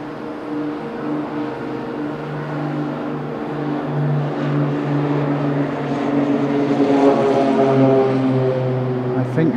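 A privately owned propeller plane at Okinawa airport drones with a steady, loud engine hum that swells slightly as it moves, holding a constant tone throughout without voices.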